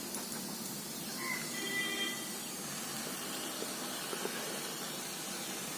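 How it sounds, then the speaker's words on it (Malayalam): Steam hissing steadily from a pressure cooker with lemon inside, a soft continuous rush that holds at an even level throughout. "ഇത് നാരങ്ങ കൊണ്ടുള്ള ആവിയാണ്."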